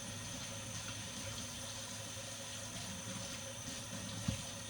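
Tap water runs steadily into a kitchen sink while a leftover pizza bowl is rinsed out, a soft continuous splashing wash with faint low rumbling beneath and one small clunk near the end.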